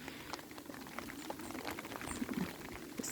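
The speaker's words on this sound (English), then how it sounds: "This is one of my favourite things to do, is to watch rain falling on water," Rain falls onto water outdoors, a faint, scattered patter of small drops and splashes with occasional soft plinks.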